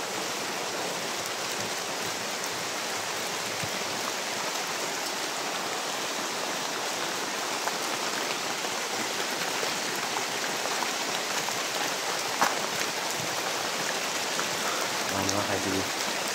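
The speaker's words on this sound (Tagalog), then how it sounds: "Mga kaidol, malakas talaga ang ulan ngayon." Heavy rain pours down in a dense, unbroken hiss that stays loud and even throughout, with a faint thump or two near the end.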